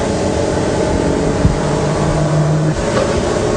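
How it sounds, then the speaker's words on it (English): A magnetic motor runs with a constant, loud mechanical hum and whir, briefly joined midway by a faint steady tonal whine. "the motor will start running"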